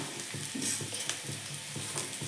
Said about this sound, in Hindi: ये फ्राई है, चूड़ा का फ्राई है